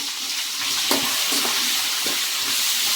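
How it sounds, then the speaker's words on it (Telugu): Asafoetida being stirred into a sizzling pot for mango pulihora, a spoon scraping and clinking several times against the pan over a constant frying hiss. "ఇంగ కూడా వేసుకొని బాగా ఒకసారి కలుపుకోవాలండి."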